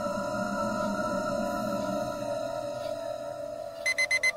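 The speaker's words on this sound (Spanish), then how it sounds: "Cuando la alarma de la joven sonó a las 7 de la mañana" A steady electronic tone hums throughout, then an alarm clock starts beeping in quick repeated bursts near the end.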